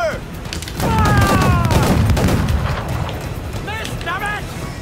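Ship cannons firing in a naval battle in Assassin's Creed IV Black Flag, heavy booming volleys and rumble under shouted voices, with creaking ship and wind noise around.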